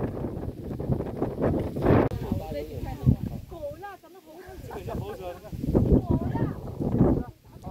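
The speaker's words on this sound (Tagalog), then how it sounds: "Grabe lakas ng hangin." Strong mountain wind buffets the microphone in rough, roaring gusts while people talk underneath.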